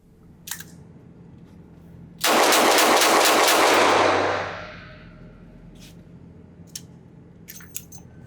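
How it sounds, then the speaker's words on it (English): Six rapid shots from a Colt Cobra .38 Special revolver ring out at an outdoor range in one loud, tightly spaced burst lasting about two seconds, each report blending into a ringing tail that fades out, with faint clicks before and after. "let's go back to the range and just see how fast I can shoot 6 shots through this little gun"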